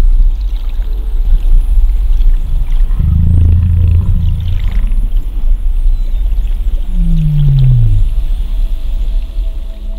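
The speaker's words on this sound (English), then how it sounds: "we did bring a hydrophone of our own so we could listen in to the haunting calls of the largest animal to ever live." Blue whale calls picked up by a hydrophone off San Diego, a deep low moan followed by a downward-sweeping tone, loud over constant underwater rumble and hiss.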